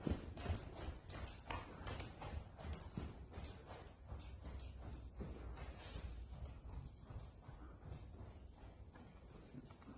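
Horse hooves clip-clop in a steady rhythm throughout a riding lesson, with faint voices and arena noise beneath the continuous patter of steps.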